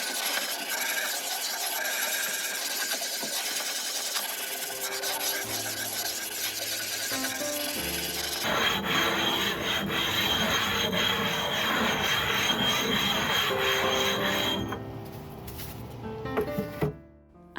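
A small stone rubbed steadily over the corners of a lithography stone during graining with 80 grit, making continuous gritty scraping strokes up close that shift in character partway through and stop near the end.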